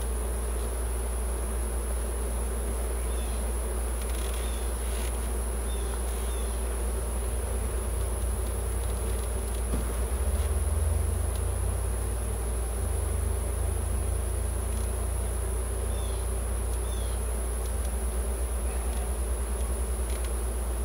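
Honey bees buzzing around an open hive rescued from abandonment, a dense, steady drone of many insects close by with no talking, holding level throughout.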